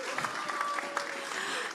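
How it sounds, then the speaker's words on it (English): A brief burst of audience applause at a youth and renewable energy session, fairly faint and distant, a soft crowd clapping texture with a faint tone running beneath it. "may I have a big round of applause?"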